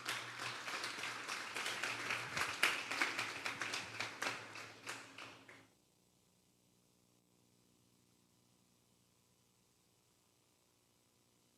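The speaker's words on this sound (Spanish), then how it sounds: "Vamos a darle un fuerte aplauso pues al Señor." A church congregation at a Sunday service claps loudly and quickly for about six seconds, a dense rattling burst that stops abruptly into near silence.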